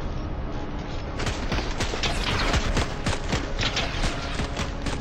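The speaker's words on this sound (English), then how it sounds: "He's shooting me through the wall." Rapid gunfire in Fortnite comes through a wall in dense bursts of sharp cracks, loud and close, over a steady game background.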